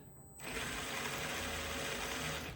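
A Redcat Gen 9 Scout 800A RC truck shifts gears from a complete stop; after a brief quiet moment, a steady, fairly loud mechanical whir of the drivetrain runs continuously to the end.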